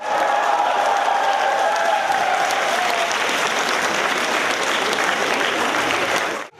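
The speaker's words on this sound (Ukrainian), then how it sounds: "Бурхливими оплесками глядачі не тільки зустрічали артистів" A large audience at a concert in Sievierodonetsk applauds loudly and continuously, dense clapping with a few whistles and cheers, cutting off abruptly at the end.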